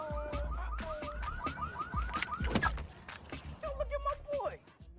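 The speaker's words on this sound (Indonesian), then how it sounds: "alarm mobilnya terus berbunyi" A car alarm wails in a film scene, a repeating electronic siren with rapid rising chirps that carries on loudly and then shifts to a different warbling tone near the end, with other noises around it.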